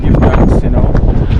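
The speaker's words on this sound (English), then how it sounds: "it's so windy this morning" A strong morning wind buffets the microphone in a small town, producing loud, continuous rumbling gusts that swamp everything else.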